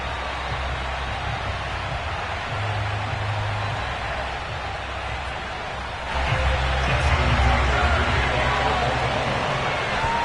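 A Baltimore stadium crowd at M&T Bank Stadium cheers in a Ravens versus Cowboys football video game, a constant roar of massed voices that swells louder partway through.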